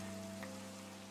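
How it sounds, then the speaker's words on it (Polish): Rain falls in the Minecraft video game, a soft, steady hiss heard faintly over a quiet, sustained musical tone for about a second. "Już jest jasne, ale dalej pada."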